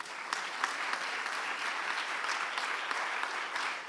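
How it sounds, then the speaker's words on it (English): Steady applause from a conference audience at the close of a session on school meals, a dense even patter of many hands clapping that lasts throughout, with no talk over it. "Please give them a big round of applause."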